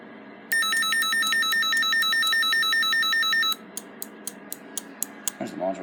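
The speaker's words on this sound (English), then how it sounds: "And I will put it into alarm." A Fyrlert alarm panel with a vacuum fluorescent display sounds its alarm, a loud, harsh, rapidly pulsing electronic ring for about three seconds that then cuts off, followed by sharp clicks from the module.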